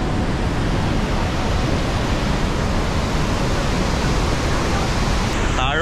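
Athirapally waterfall in Kerala in flood, carrying muddy water: a loud, unbroken roar of falling water that fills the whole scene.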